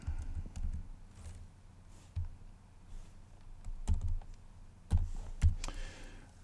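Typing on a computer keyboard while entering a website address, with soft, irregular key clicks and a few firmer taps close by, no talking.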